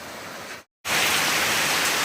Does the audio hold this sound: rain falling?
yes